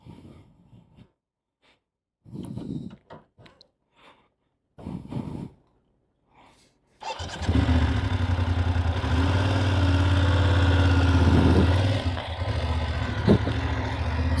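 A motorcycle engine pulls away with the throttle set near 2,500 RPM for slow-speed U-turn and serpentine riding exercises. It is quiet at first, then a loud, steady, close engine drone runs from about halfway to the end.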